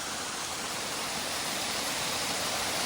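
Steady broadband rush of a flowing stream fills the whole clip, a continuous close wash with no breaks and no voices.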